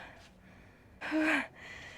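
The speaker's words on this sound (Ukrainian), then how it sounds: "І задишка моя теж красива." A woman out of breath after walking uphill on a seaside holiday lets out one loud, close gasping breath lasting about half a second, with quieter breathing before and after.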